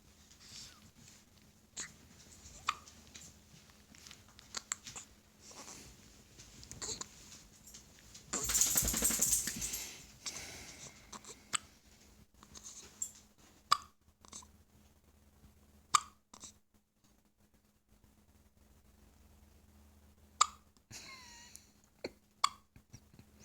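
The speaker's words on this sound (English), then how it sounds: "Some loud hiccups." Amelia hiccups loudly, with sharp, isolated hiccups spread irregularly over a quiet stretch and one longer noisy burst near the middle.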